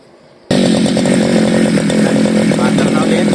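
A CG411 grass cutter engine that stalls when the accelerator is applied, starting abruptly and then running loud and buzzing at steady high revs, with a voice talking over it.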